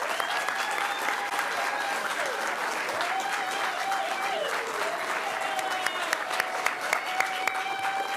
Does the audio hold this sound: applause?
yes